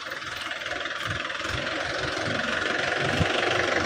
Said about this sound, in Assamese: এইফালে এয়া ট্ৰেক্টৰত বালি আনিছে